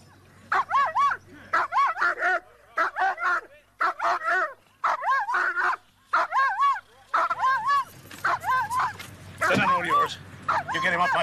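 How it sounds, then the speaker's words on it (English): A guard dog at a fairground barks and yips in short repeated bursts, close and loud, with whimpering tones between bouts. "He's the best guard dog you ever see, mister."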